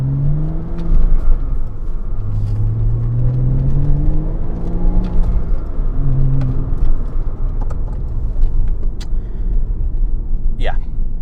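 A 2007 Porsche Cayman S with a manual gearbox revs while being driven, engine rising and falling in throttle blips through downshifts, a loud steady drone heard from inside the cabin.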